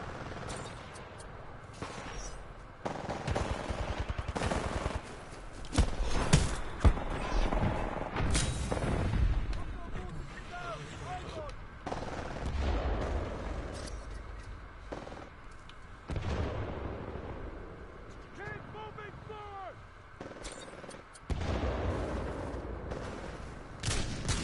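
Gunfire in a first-person shooter game on a frontier map, coming as irregular bursts and scattered shots of moderate loudness, with game effects and brief voice chirps mixed in.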